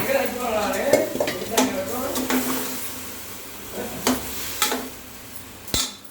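Washed rice and moong dal stirred in a metal pot, a spoon scraping and clinking against the sides in several sharp, separate strokes over a low background hum, with no talking.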